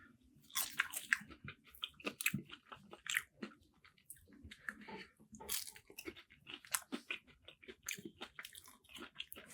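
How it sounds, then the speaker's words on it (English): Someone eating fresh Church's Chicken fries up close, with repeated crisp bites and chewing crunches in an irregular rhythm and no talk. "Let's go for a fry here."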